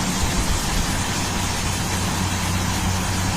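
Corn harvester machine running in a cornfield, a loud, steady low engine drone with broadband mechanical noise and no pauses.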